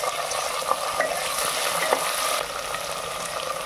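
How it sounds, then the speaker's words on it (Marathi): Peas, tomato and potato pieces sauté in hot oil for a veg pulao, giving a steady, close sizzle with occasional soft stirring scrapes. No one speaks. "आता हे सर्व आपल्याला परतून घ्यायचं आहे।"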